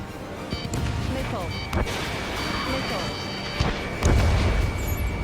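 Repeated deep booms and blasts crack through a busy aerial battle soundscape in Ace Combat 7, with missile launches and pilots' radio voices talking over the action.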